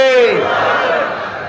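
A large outdoor crowd at a ghazal gathering in Kalaroa, Satkhira roars Allahu Akbar in unison after a takbir call, one loud sustained mass shout that slowly fades.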